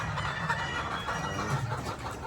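Althea Whites bloodline gamefowl chickens cluck steadily and fairly close, a busy overlapping chatter of short calls from several birds over an outdoor background.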